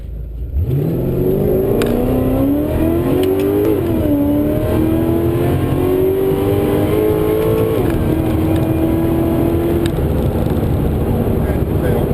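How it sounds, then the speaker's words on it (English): A Holden VE Maloo ute with a Whipple supercharger pulling a first gear takeoff, loud and close, engine pitch climbing steadily through long revving pulls with a supercharger whine over a constant roar. "Up into here, do a first gear takeoff."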